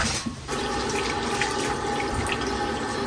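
Tap water runs steadily into a sink, rinsing blanched beef bones in a kitchen, a continuous close splashing gush with no talk.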